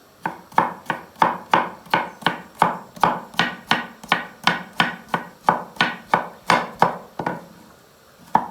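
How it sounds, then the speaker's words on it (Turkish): A knife julienning a cucumber chops rapidly and steadily on a cutting board, about twenty crisp, evenly spaced strokes, close and clear, then stops. "Bir tane salatalığım var. Hemen onu da şöyle jülyen şeklinde"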